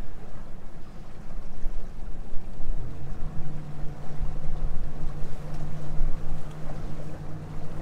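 A fishing boat picks up speed on open water, its motor a steady low drone rising in pitch over a churning wash of water and wind, continuous and fairly close.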